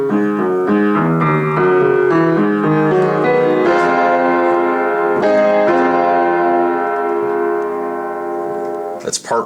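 Piano plays the slow outro of a song, a melodic passage over sustained chords and bass notes, moderately loud, ending with a brief softer tail.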